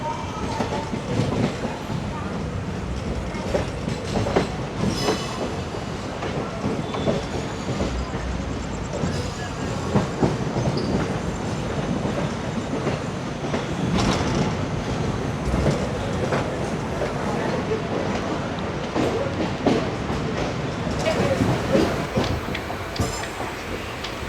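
Intercity Express train running towards Ernakulam Junction, a steady loud rumble of wheels and carriages with rhythmic clattering throughout, heard from on board with faint background voices.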